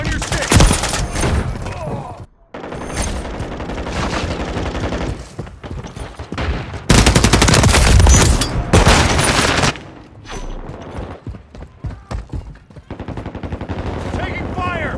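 Heavy gunfire in the video game Call of Duty Modern Warfare 3: loud, sustained automatic bursts and rattling fusillades, close and dense, with brief lulls between volleys and a short gap early on.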